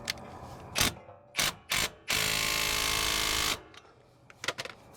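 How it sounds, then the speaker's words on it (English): Ratchet wrench tightening a tie rod end on a Toyota 4Runner: a few short separate clicking bursts, then one long steady run of rapid ratcheting about a second and a half long, followed by faint scattered clicks, close and fairly loud. "now we tighten her down"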